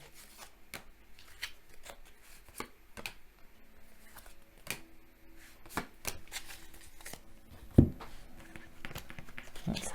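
Tarot cards are shuffled and drawn during a reading, producing a series of crisp slaps and riffles at irregular intervals, moderately close, with one louder thump partway through.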